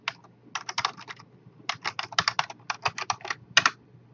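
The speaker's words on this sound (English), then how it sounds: "I'm gonna type in my password." Someone types a password on a computer keyboard, producing crisp, close key clicks in several quick bursts separated by short pauses, with no talking.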